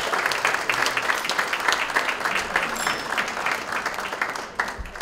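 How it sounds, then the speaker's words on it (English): A conference audience at a wine event applauds, dense sustained clapping from many hands filling the room steadily, easing slightly near the end. "A round of applause, ladies and gentlemen, for the group that we've had."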